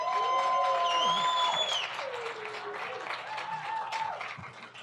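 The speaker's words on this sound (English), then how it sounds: "let's have a nice round of applause for Ryan Jones." An audience at a debate event gives a round of applause, steady clapping with some cheering, while a voice carries over the top.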